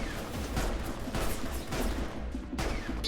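Gunfire in the Final Fantasy XV game, with pistol shots in dense, rapid bursts that come in waves over a steady rumbling action backdrop, loud and continuous throughout.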